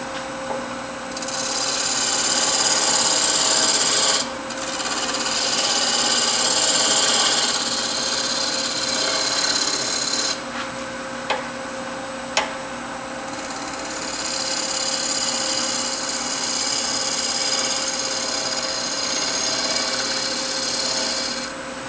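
A wood lathe spinning mahogany at 1,100 rpm while a shear scraper works the surface gives a steady, fairly loud scraping hiss with a constant whine, broken by a few brief dips and sharp ticks, with no talking.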